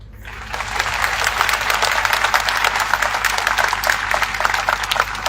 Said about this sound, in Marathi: त्यांनी टाळ्या वाजून या ठिकाणी दिल्या